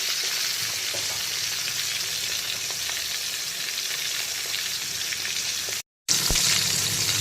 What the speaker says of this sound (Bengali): এখন মাছের উল্টো দিকটাকেও একইভাবে খুব ভালো করে ভেজে নিতে হবে